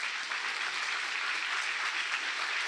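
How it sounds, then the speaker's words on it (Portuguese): A congregation applauds during a church service, a thick, uniform wash of clapping from many people that stays loud and unbroken throughout, with no voices rising above it. "Aplauda bem forte o Senhor."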